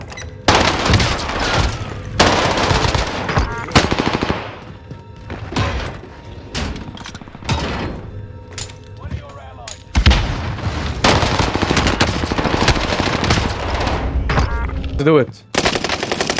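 Dense, loud gunfire from Warzone video game weapons, with rapid bursts and heavy booms broken by short pauses and a brief spoken remark.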